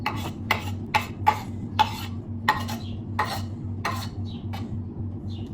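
Grated beetroot, onion, ginger and garlic cutlet mixture being stirred by hand, with repeated close clinks of a utensil against a bowl in an uneven rhythm over a steady low hum.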